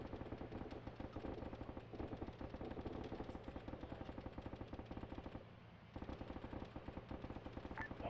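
Sustained automatic gunfire from a squad in the military shooter Arma 3, rapid rhythmic bursts rattling on for several seconds with one brief pause, fairly far off and muffled, with no voices over it.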